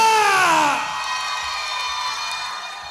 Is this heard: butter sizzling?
no